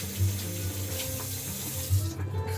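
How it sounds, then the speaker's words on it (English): Hands are washed under a running kitchen tap in a cabin, with a steady stream of water splashing close by for a couple of seconds, alone without talk. "let's wash our hands again"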